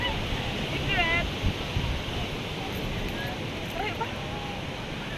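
Sea waves rolling onto the shore, a steady rushing surf with faint wind, and people talking and calling out in the background.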